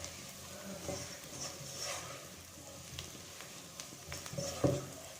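Whole cumin seeds sizzle steadily in a hot pan of oil while cooking vegetables for a Spanish omelette, a soft continuous crackle with small spatters and a louder clatter of stirring near the end, no voices.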